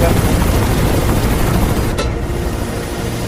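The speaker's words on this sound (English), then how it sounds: "Keep an eye on that chopper." A helicopter's dense rotor-and-engine roar in the game Mirror's Edge, loud and continuous, with a brief sharp transient midway and speech mixed in.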